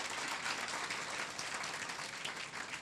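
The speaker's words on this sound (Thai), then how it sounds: "ขอเสียงปรบมือให้ไดมอนด์แกลนพาราไดทุกรหัสของกิฟฟลีนครับ" Steady applause fills a Thai corporate event hall honoring Giffarine diamond executives, dense continuous clapping from a large audience, fairly faint and distant.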